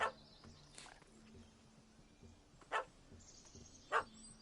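A puppy in a PS4 video game barks at a cat up a tree, letting out about four faint, widely spaced barks over a quiet game background.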